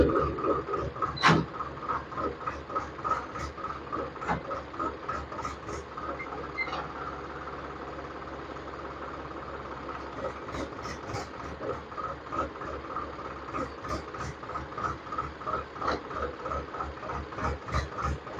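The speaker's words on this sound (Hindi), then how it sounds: "ट्रैक्टर कंप्लीट हो चुका है, अब इसको स्टार्ट करके चेक करके देखेंगे।" A Farmtrac 50 EPI tractor, freshly repaired after a clutch problem, idles steadily with a continuous rhythmic diesel chug throughout, a sharp clack near the start as the gears are checked.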